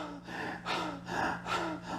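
A person imitates heavy panting from exhaustion with four breathy gasps in a steady rhythm, close and fairly loud, with no speech.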